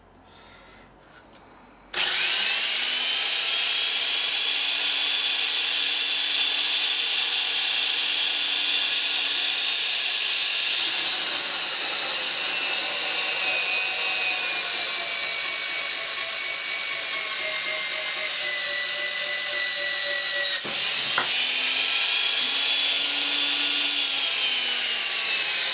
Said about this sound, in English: Drilling holes